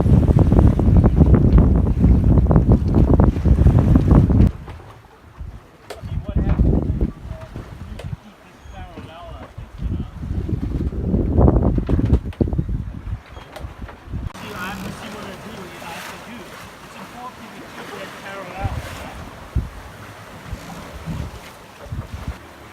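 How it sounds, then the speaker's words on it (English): Wind and waves on a sailboat running downwind in a steady 15-knot east-northeast breeze on a Martinique to Bonaire passage, with loud buffeting wind noise at first, then quieter rushing water and hull sounds as someone talks over it. "The wind is probably a steady 15 out of the east-northeast, and we'll be going downwind."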